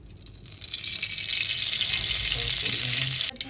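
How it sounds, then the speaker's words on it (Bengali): Mustard oil is poured into a hot kadai and starts to sizzle. A bright, hissing crackle builds within the first half second, holds steady and loud, then cuts off sharply near the end. "এবার কড়াইতে আমি সর্ষের তেল দিয়ে দিচ্ছি।"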